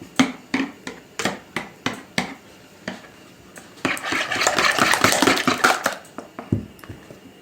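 Eggs with salt, pepper and spices being beaten in a bowl: sharp, rhythmic clinks of a utensil against the bowl, then a burst of rapid, dense whisking before slower taps return, loud and close.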